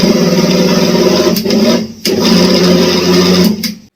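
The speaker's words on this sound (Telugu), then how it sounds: "కొంచెం పిండి ఇలాగా నేను మిక్సీలో వేసి కొంచెం సాల్ట్ వాటర్ యాడ్ చేసి ఇలా మిక్సీ పడతాను" An electric mixer grinder kneads chapati dough from flour, salt and water. The motor whines loudly and steadily at close range, stops briefly twice, then restarts and cuts off at the end.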